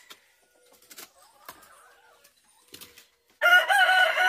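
Chickens in a backyard coop give soft, scattered clucks and rustling, then a rooster crows loudly and close for the last second, all with no talk.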